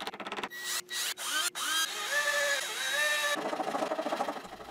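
A power drill driving screws into a wooden workbench, several close bursts of whirring motor with rising and falling pitch, brief stops between screws, then a rougher final run.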